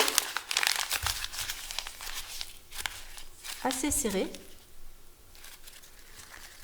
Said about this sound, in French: Notre papier, en fait, on va le froisser